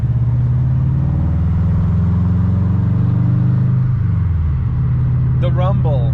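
A car engine idles with a deep, steady rumble close by, a low throbbing drone that holds throughout, with a brief shift in tone near the end and a voice speaking over it.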